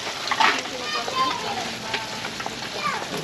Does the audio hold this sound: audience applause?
no